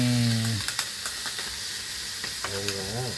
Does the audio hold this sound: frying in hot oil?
yes